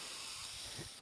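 A spray nozzle is emptied while coating a car's outside paint, giving a brief, faint, steady airy hiss that cuts off abruptly at the end, with no voices.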